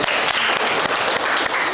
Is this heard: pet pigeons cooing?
no